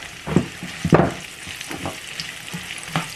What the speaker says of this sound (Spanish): Nomás con lo caliente que tiene la estufa se van a alcanzar a dorar los chiles